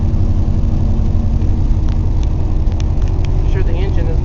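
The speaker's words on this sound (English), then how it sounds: "I'm sure the engine is loving me right now." A 2013 car engine idles loudly and continuously after a cold start, a low even rumble with faint voices and small clicks over it.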